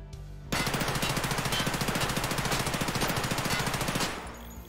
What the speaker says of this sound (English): So that was a 50 round burst.